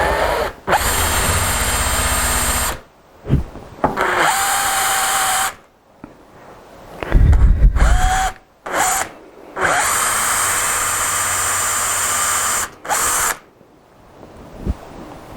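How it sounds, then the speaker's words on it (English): A cordless drill whirs in several long bursts separated by short pauses, its pitch dipping under load, close and loud with no voices. "cordless drill. Pop it down in through there like that."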